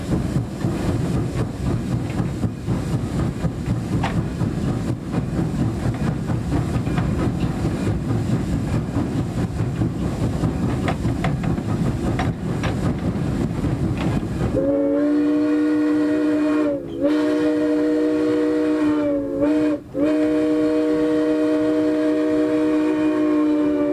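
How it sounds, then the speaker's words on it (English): A steam train at the Illinois Railway Museum picks up speed, first as a dense, steady rumble of running gear. Then come long, loud whistle blasts with brief gaps between them, and no voices. "By balancing the throttle, steam cutoff, and air brakes, the engineer soon has the train up to speed."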